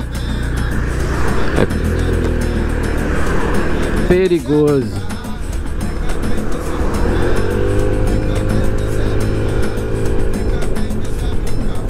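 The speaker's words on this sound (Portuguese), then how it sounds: "Esses carros vêm correndo aqui." Cars speed past on a road while a delivery worker is out on his route, loud engine roar rising and falling close by with a passing whoosh, under a man's brief speech.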